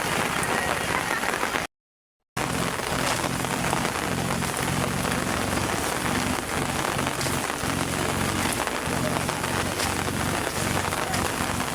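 Steady heavy rain pattering on surfaces, a dense continuous hiss broken only by a brief silent gap early on.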